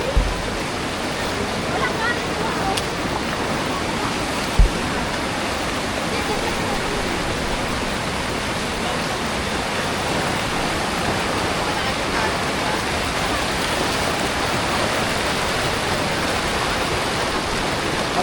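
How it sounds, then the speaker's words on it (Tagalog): Strong current of the Bagsit River in Zambales rushing steadily, a dense, unbroken broadband roar of flowing water close to the microphone, with a couple of brief knocks near the start. "Hindi siya malalim, malakas lang yung agos."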